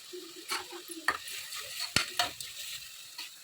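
Tomatoes sautéed in a pan while being stirred, soft sizzling under sharp scrapes and taps of a spoon against the pan, fairly faint and close.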